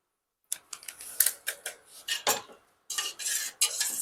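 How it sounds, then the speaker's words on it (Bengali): Milk thickened with powdered milk is stirred in a metal pot, making a series of close scraping and clinking strokes in irregular bursts, with a short pause before the stirring resumes. No one speaks. "এবার দুধটাকে একটু গুলে নেব"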